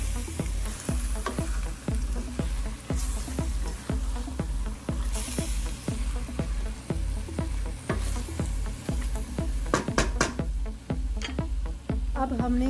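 Potatoes fry in hot oil for a Punjabi aloo methi with fenugreek. A steady loud sizzle fills the whole stretch, and the pan is stirred in a regular rhythm of scraping strokes.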